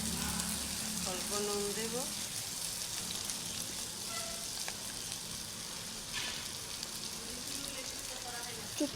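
Mustard paste being poured into a hot pan and frying, a steady broadband sizzle running throughout, close and fairly loud, with a voice talking over it at moments.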